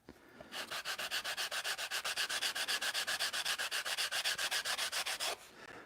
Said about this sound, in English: just 80 grit paper or whatever and start sanding